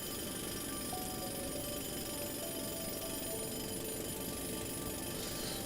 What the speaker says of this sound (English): Let's keep drilling a little bit.